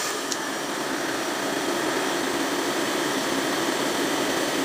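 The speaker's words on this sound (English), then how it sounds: "and use a blow dryer." A blow dryer blows into half of a water bottle with a loud, steady, rushing airflow hiss that holds unchanged throughout.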